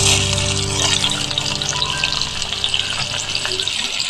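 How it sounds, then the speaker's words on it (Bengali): Chopped onions fry in mustard oil with a dense, loud, continuous sizzle and some stirring noise, heard alone without voices. "পেঁয়াজটা ভালো করে ভাজা ভাজা করে নেবো"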